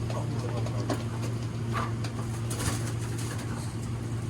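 A bird coos softly against a steady low hum, with faint scattered taps and rustles in the background.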